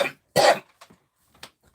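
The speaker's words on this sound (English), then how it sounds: "I do tend to cough a lot into this room." Two short, harsh coughs sound close up in a quiet indoor room, the first the louder, followed by a faint throat-clearing catch.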